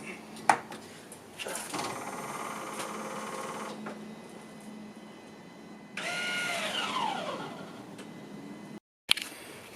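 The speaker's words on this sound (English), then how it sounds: "Electric handbrake time. First, switch the battery on." A car's electric handbrake motor whirs in two mechanical bursts, first a steady buzz, then a louder rising whine, with clicks around them and a person talking nearby.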